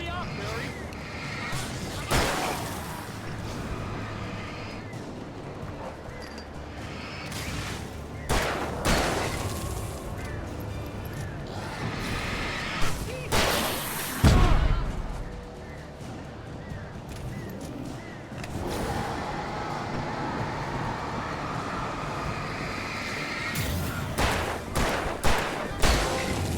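Pistol gunfire in the video game Alan Wake, scattered single shots and short bursts standing out sharply over ambient game sound and a player talking, with a heavy boom near the middle.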